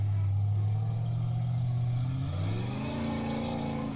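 A Chevy-engined D-Class 4x4 trials truck revs loudly up close at a muddy hill-and-bog trials event, its engine note holding low and then climbing in pitch as it accelerates.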